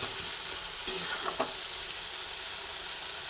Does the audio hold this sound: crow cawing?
no